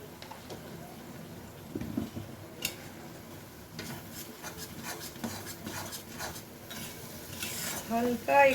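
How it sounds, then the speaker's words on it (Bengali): Chicken balls sauté in a pan with a soft steady sizzle while a utensil stirs, scraping and clinking against the pan in irregular strokes, close and moderately quiet. "হালকা একটু কষা কষা করে নিই।"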